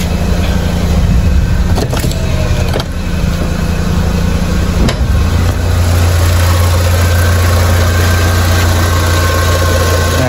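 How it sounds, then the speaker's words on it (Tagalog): A car engine idles steadily with the air conditioning switched on, giving a constant loud hum with a low drone. A few brief clicks and knocks land in the first five seconds. "hayaan nyo naka-idle ng 15 minutes yung makina"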